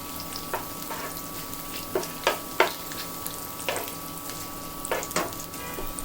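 Whole spices frying in hot oil for beef biryani, with a steady sizzle and a run of sharp pops and spatters scattered across the clip, close and fairly loud.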